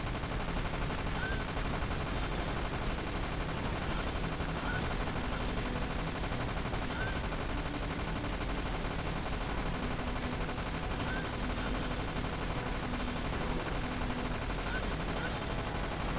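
Minigun in an on-rails shooting section of the game Dirge of Cerberus, a dense continuous roar of rapid gunfire filling the whole stretch, loud and unbroken.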